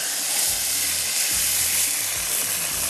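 Rice going into a pot of simmering water on a stove for Kashmiri rice, a steady close sizzling, bubbling hiss with soft low thumps and stirring knocks throughout, no voices.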